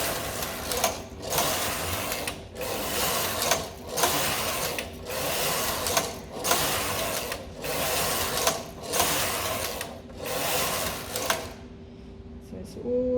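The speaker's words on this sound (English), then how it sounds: "So I'm going to do 10 rows at 4." Knitting machine carriage sliding back and forth across the bed, working ten rows in a steady rhythm of loud, rasping mechanical passes with brief pauses at each turn, ending in quiet.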